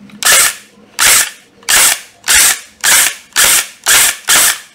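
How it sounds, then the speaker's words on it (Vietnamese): A Makita cordless nail gun, about 14V, is dry-fired with no nails loaded, giving eight loud, sharp mechanical snaps at an even rhythm of roughly one per 0.6 seconds, close up and alone. "bình chưa có đinh, mình sẽ bắn thử cho mọi người xem nhé"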